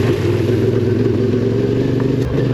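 A CFMOTO adventure motorcycle ridden on Portuguese roads, its mid-pitched engine droning steadily and loudly up close, with constant wind rush and a faint clatter near the end, no voices.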